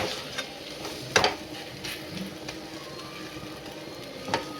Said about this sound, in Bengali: ভাজা ভাজা ভালো করে